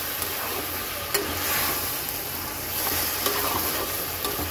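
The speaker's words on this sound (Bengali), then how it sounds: "দিয়ে দেব এর মধ্যে সামান্য জল মশলাটাকে কষানোর জন্য" Spice paste sizzling and bubbling in a pan after a splash of water goes in, a broad steady hiss with a few sharp clicks of a utensil, no speech.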